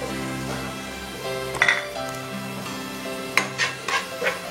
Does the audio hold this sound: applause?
no